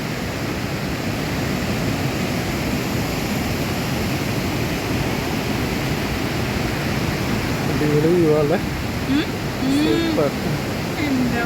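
Turbulent water rushes loudly and continuously, a dense churning roar, with a few voices briefly audible over it near the end.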